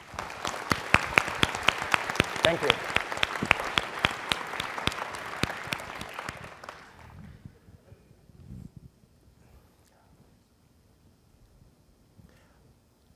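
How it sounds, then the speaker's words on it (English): A conference audience at a general session bursts into dense, vigorous applause that carries on for several seconds, then tapers off into quiet room tone, with a brief spoken thanks near the end. "Let's just give them all,"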